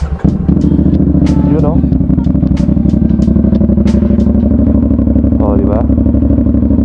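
CF Moto 450 SR-S motorcycle idling on its first start of the morning, a loud, close, steady rumble with a fast regular beat throughout, while people talk briefly over it.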